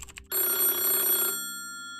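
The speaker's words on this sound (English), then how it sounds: "The phone rings at Jacksonville Sheriff's Office." A telephone rings at a sheriff's office with one loud, sustained electronic trill lasting about a second, then fading out after a few soft preceding clicks.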